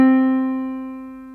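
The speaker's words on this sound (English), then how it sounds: "Our middle C would sound like this" A single sustained piano middle C rings out clearly, steady and mid-pitched, slowly fading over about a second and a half with no other sounds.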